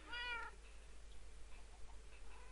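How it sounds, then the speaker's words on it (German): A single short cat meow from the Minecraft video game opens the passage, clear and fairly close, then fades into a quiet, steady game background with no further calls. "Hey, du hast ja zwei Katzen jetzt."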